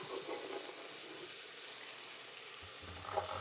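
Beets and carrots sizzle steadily in a hot frying pan, a continuous close hiss with a slight lift near the end and no talking.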